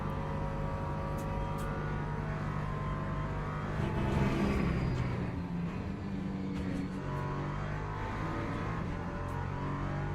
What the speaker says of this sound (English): Here comes the LMP2s again.